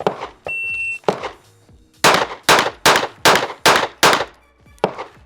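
Gunshots ring out at paper targets during a shooting drill, a loud, close string of about seven sharp reports, the last five coming in quick, even succession after a brief beep.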